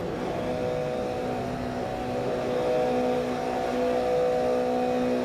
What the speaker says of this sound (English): Revs rise in these boxer engines.